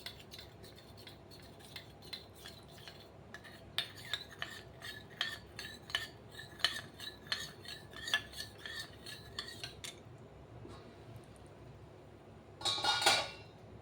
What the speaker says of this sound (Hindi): इसमें 1 चम्मच मैं कस्टर्ड डाल के मिक्स कर रही हूँ।